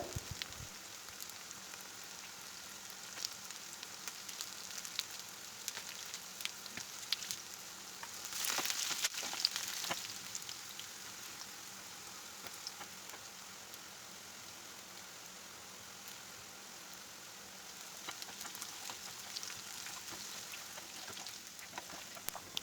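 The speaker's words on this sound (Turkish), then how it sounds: "Sonrasında tekrar tavama birazcık daha yağ ilave edip sonra tekrar patlıcanlarımı kızartıyorum bu sefer de." Steady crackling sizzle of eggplant frying in hot oil in a pan, continuous throughout with a brief louder burst of spattering partway through; no voices.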